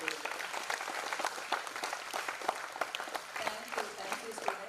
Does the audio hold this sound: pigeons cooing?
no